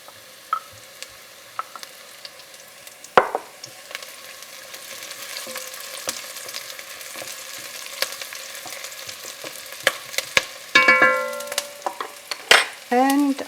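Onions browning in lard in a pot for a German kale stew, a steady low sizzle with scattered crackles and occasional stirring clatter, close by with no talk.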